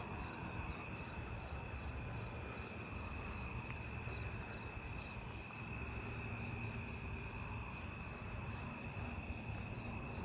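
Fall field crickets chirp at night in a neighbourhood, a dense, steady wash of trilling insect song at moderate distance, joined by other crickets and katydids, with no voices.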